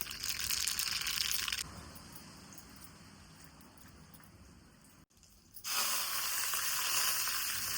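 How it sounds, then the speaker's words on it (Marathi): Cumin, mustard seeds and village-grown curry leaves hit hot oil in a pan over a wood-fired clay stove, giving a bright hissing sizzle that drops off, goes quiet, then surges back loud and close. "जिरे, मोहरी, कढीपत्ता घालून घेतला तेलामध्ये."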